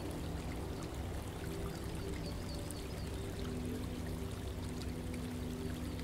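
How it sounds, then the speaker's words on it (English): Water falls and tumbles down stepped stones into a garden pond, a soft, steady pouring and trickling wash that runs continuously and faintly, heard alone. "feeds the pond on one side, but not before it falls and tumbles down a series of stepped stones,"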